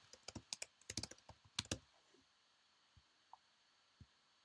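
Keys clicking on a computer keyboard while an email address is entered, a quick cluster of close, crisp taps followed by a few scattered single presses in an otherwise quiet room.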